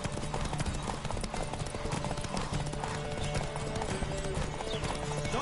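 Rapid, steady clip-clop of a galloping horse's hooves in The Witcher 3: Wild Hunt, a continuous loud rhythmic pounding with no talk over it.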